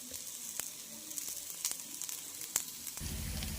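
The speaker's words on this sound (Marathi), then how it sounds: "अतिशय छान असे आपले आप्पे फ्राय झालेले आहेत आणि परतून घेतलेले आहेत" Appe, vegetable-filled dumplings, sizzle as they fry in a pan, a steady close hiss with a few crisp pops and a low bubbling that picks up near the end.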